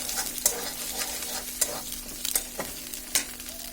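A spoon stirs a tomato and egg macaroni mixture in a hot pan, with steady close sizzling and several sharp scrapes and clinks against the metal.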